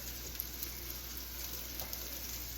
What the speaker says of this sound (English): Within a minute or so, you're going to hear the sizzling